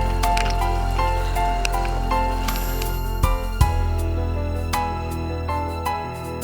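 A Kerala-style spicy beef roast with fresh curry leaves thickens in a pan. It bubbles and sputters close by with wet pops, squishes and sharp crackles.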